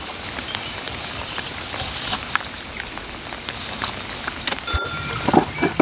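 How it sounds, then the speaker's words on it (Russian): Steady rain falls around a wooden forest house, a dense close patter of drops on surfaces with a few louder nearby splashes and knocks toward the end. "Может и хорошо, что сегодня идет дождь."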